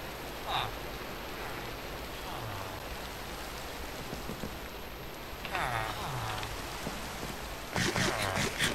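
Steady rain hisses in the Minecraft video game, a constant close patter, while a few faint game effects and brief voice-like sounds come and go over it.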